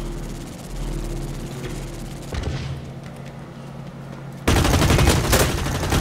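Gunfire in the shooter game Blacklight: Retribution, sustained automatic bursts and sharp shots, with a louder, denser barrage breaking in near the end.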